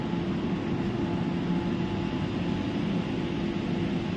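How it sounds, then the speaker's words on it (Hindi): Underground metro train at Howrah Maidan, Kolkata, a steady continuous rumble and hum of the air-conditioned carriage in motion, with no voices. "यह है पश्चिम बंगाल का हावड़ा मैदान क्षेत्र का भूमिगत मेट्रो ट्रेन"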